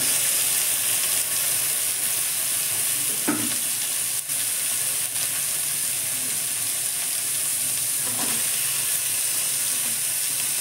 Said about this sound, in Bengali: আলু বেগুনটা দিয়ে দিলাম, একটু ভেজে নেব